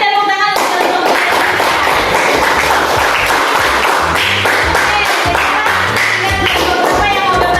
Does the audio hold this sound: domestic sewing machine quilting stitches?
no